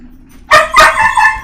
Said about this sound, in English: These dogs are, like, driving me crazy.